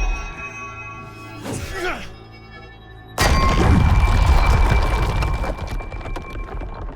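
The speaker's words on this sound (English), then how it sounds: "Sindri marches to the wall, flings tuning metal prong into it" In the God of War game, a metal tuning prong is flung into a stone wall, and a sudden loud crack and rumbling crash cut in midway, then fade through a lingering, crumbling tail after a quieter musical lead-in.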